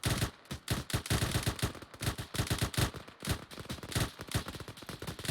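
Sustained suppressive gunfire in a military shooter video game: continuous rapid automatic bursts, loud and close, with short gaps between strings of shots and no voices.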